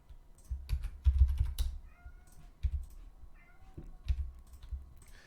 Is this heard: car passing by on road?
no